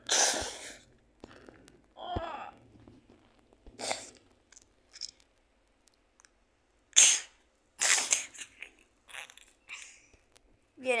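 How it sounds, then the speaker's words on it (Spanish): Several sharp, loud gunshots ring out at irregular intervals, a few isolated and others in quick clusters, with quiet gaps between them. "escuché disparos y el edificio se tambalea"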